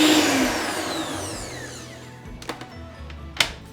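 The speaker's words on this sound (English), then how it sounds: "So we're going to pop that one back in the mixer." An electric mixer whirring as it beats butter and icing sugar for buttercream, the motor pitch gliding downward as it winds down, followed by a couple of sharp knocks.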